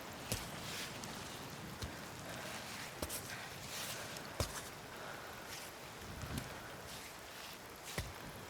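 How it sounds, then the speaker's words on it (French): Steady rain hisses across the scene in the video game Cairn, a dense broadband wash at moderate level, broken by a few sharp knocks or drips, with no talk. "La pluie, toujours de la pluie."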